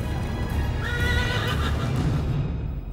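A horse gives a loud, wavering neigh over a steady bed of hoof clatter and rumbling noise. The sound is close and fairly dense, in a dramatized medieval scene.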